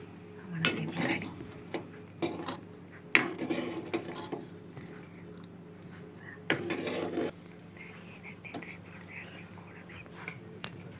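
A spoon stirs semiya dessert with added cardamom powder in a pot, giving intermittent scraping clinks and rattling bursts of metal on metal at moderate volume, with quiet gaps between strokes.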